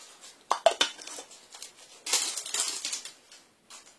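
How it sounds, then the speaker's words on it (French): A small lid is set onto a Japanese miso soup bowl, close and light: a few crisp ceramic clinks and taps, then a brief scraping rattle as it settles, ending in a faint final tap. "c'est un bol de soupe que vous pouvez refermer, donc avec un deuxième petit couvercle"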